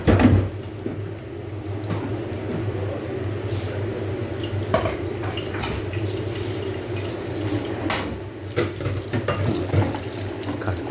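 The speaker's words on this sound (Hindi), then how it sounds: "गरम ऑयल के अंदर मैं डालूँगा" Flour-coated chicken breast frying in hot oil, a steady close hiss and sizzle with scattered small pops and crackles, running continuously without talk.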